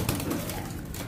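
Racing pigeons coo softly inside a newly built loft, low murmuring calls blending into a steady background hum, with no speech.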